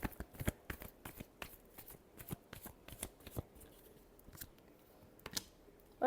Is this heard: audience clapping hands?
no